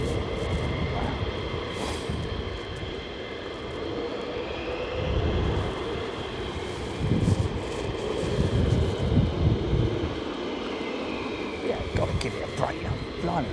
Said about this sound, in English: Fighter jets, man.